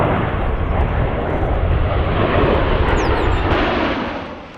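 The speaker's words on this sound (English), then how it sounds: "the Blue Angels will take off for the Spirit of St. Louis Air Show" Blue Angels jets roaring overhead at the Spirit of St. Louis Air Show in Chesterfield, a loud, steady broadband engine rumble that holds for several seconds before fading near the end.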